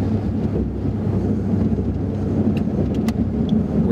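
A truck plowing snow across a side lot gives a steady, loud low engine rumble with scraping texture, heard up close and continuous, with a few faint clicks near the end.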